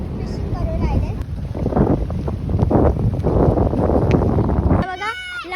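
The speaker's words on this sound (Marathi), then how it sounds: "इथं खूप जास्त वारा चालू आहे." Strong wind blows by the sea near Mumbai, a loud, gusty rumble buffeting the microphone for several seconds, with a voice speaking over it before it cuts off.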